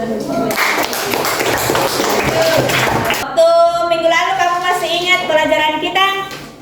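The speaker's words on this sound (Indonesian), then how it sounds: "kita punya aplaus" A class audience claps for a few seconds during a religion lesson, a spread of scattered hand claps, and then voices take over the room.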